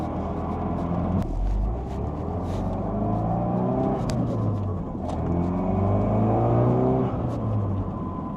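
A Ford Focus RS engine revs repeatedly, its pitch climbing and falling in several surges over a steady low rumble, loud and close.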